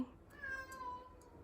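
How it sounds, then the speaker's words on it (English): A cat meows a long, drawn-out call that slides downward, fairly faint and a little distant, over a quiet indoor background. "That's my cat."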